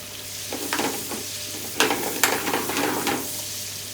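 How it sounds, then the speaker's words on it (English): Onion rings dropped into melted butter in a pan for gourmet burgers, giving a soft continuous sizzle with several louder crackling bursts as the rings go in and shift, close by. "So the butter's melted now. I've cut the onions like an onion ring size. So that goes in."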